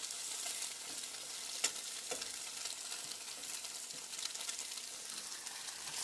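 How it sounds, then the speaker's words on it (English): Coconut curry with vegetables sizzles steadily in a pan, a dense, even frying hiss with a few soft clicks as it is stirred, heard alone and close. "you have the chicken in here with everything simmering away"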